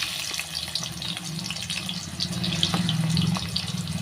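Finely chopped large onions go into hot oil with mustard seeds, producing a continuous close hiss of frying dotted with small pops and crackles that swells slightly toward the end.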